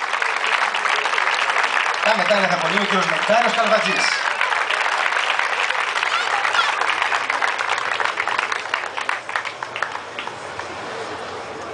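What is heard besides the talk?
applause at a women's masters medal ceremony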